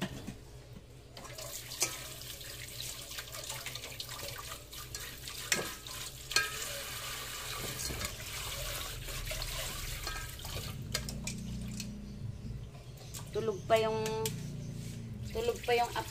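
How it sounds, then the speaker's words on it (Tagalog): A cooking pot gets washed under running water: a constant faucet stream with scattered clinks and scrubbing knocks, plus a busier splashing stretch near the end, all fairly faint. "Linisin ko na lang yung kaldero."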